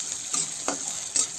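Ginger dropped into a pan of sizzling whole spices (cloves, cardamom, coriander and cumin) for restaurant-style chole paneer, giving a steady frying hiss with a few brief louder stirring bursts.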